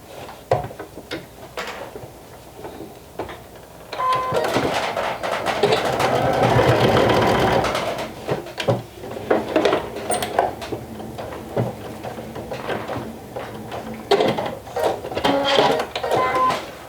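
A sewing machine stitches a half-inch seam on a vintage jumper, its motor whirring in uneven bursts with clicks and handling noises between runs and a sustained stretch of stitching in the middle.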